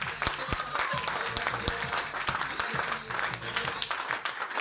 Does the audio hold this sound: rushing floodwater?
no